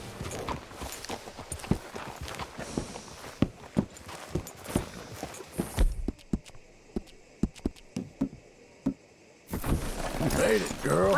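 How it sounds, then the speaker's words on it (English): Horse hooves clip-clop at a walk in Red Dead Redemption 2, steady irregular thuds close by under game speech and ambient sound. "Hitch your horse up here."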